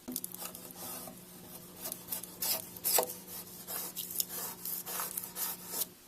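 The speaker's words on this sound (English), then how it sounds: "use that to gently clean off any paint that maybe is on the hinges or on the natural wood trim" Putty knife and damp rag scraping and rubbing paint off door hinges and natural wood trim, a steady run of close, soft scrapes and rasping strokes with brief louder swipes.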